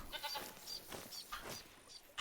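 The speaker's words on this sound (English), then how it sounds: "There are a lot of goats." Feral goats bleating in TheHunter: Call of the Wild, several quavering calls in quick succession, fairly quiet and without any talk over them.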